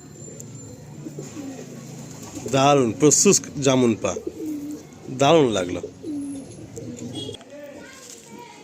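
Pigeons of the Madrasi breed coo in low, throaty bursts close by. Someone speaks in short excited phrases between them.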